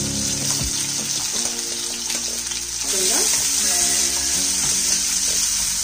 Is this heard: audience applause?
no